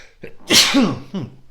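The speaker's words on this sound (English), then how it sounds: "Hold on a second, because I'm about to sneeze." A single sharp sneeze, preceded by a short intake of breath and followed by a brief exhale, close and loud with no talking.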